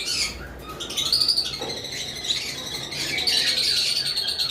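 Cockatiels at a bird farm, including yellow-sided and pineapple double red factor birds, keep up a dense, continuous chorus of shrill chirps and squawking calls throughout, fairly close and with no talking.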